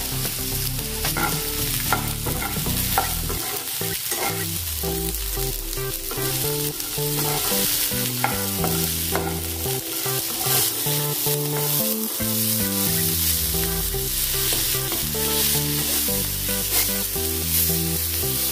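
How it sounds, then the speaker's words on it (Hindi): Tomatoes and red chili frying in a pan while a spoon stirs them, a steady loud sizzle running throughout with busy scraping and stirring noise. "ऐसे चम्मच से चलाते चलाते ही इसको पकाना है।"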